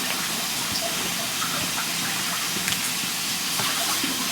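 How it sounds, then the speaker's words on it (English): A chopping board and knife are rinsed under a steady stream of running tap water, a continuous gushing splash at close range with small clatters of the board and blade, no talking. "So I'm gonna rinse this chopping board off again. Rinse my knife off."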